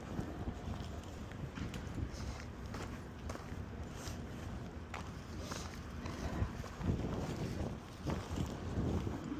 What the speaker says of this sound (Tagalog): Malamig yung hangin ah. Ang hangin.